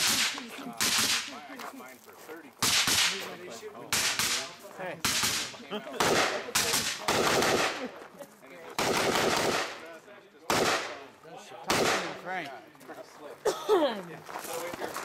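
Rifle shots at an action side match ring out as a rapid series of loud, sharp cracks in clusters, with people talking between and over the bursts.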